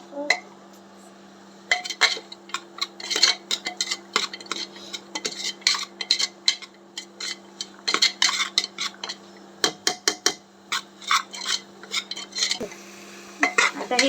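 Turmeric and spices being stirred and dry-roasted in a pan for masala rice, with a busy run of close scraping and clinking strokes from a utensil over a steady low background hum.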